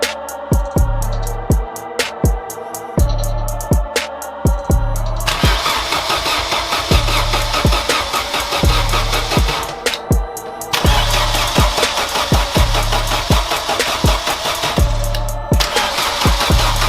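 A Vauxhall Corsa engine cranks over repeatedly during a compression test, the starter churning in loud rhythmic bursts with brief pauses between runs, heard up close with no talk.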